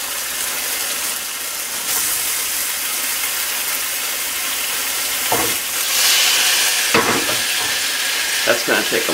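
Sausage sizzling and frying in a hot pan, a steady hiss throughout with occasional stirring and clatter toward the end, louder in the later part, no voices.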